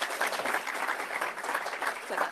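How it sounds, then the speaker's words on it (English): Audience applause at a conference session as a participant is called up for recognition, a soft, steady patter of many hands clapping at moderate distance, continuous and without speech. "a round of applause"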